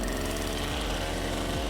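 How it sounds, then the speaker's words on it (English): A power auger for driving a screw pile foundation at an off-grid cabin site in the woods runs with a steady, loud motor drone and a low rhythmic chug, close and alone without talk. "A power auger."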